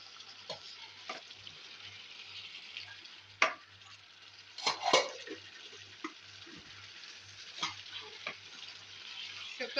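Pieces of beef fry in hot ghee in a karahi, a soft continuous sizzle broken by scattered sharp clicks and scrapes of a spoon stirring, close and fairly quiet.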